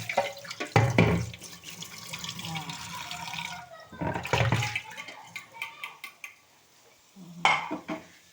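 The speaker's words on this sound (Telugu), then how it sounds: "ఆల్రెడీ కడిగినదే అది కొద్దిగా వాటర్తో కడిగితే బాగుంటుంది అన్నమాట." Tap water runs over food being rinsed in a kitchen sink. Three close bursts of gushing water are separated by quieter stretches, and the last splash is brief.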